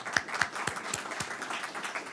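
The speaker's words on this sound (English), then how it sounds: "perhaps we can again give them a well-deserved round of applause" A small conference audience claps for a policy panel, a faint, sparse patter of a handful of distinct hand claps with uneven spacing, quiet and somewhat distant.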